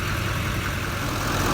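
A tuned 6.6-liter LML Duramax diesel with the stock air box idles steadily in a 2011 GMC 2500HD Denali 4x4 pickup, a continuous low rumble at an even level with no talking.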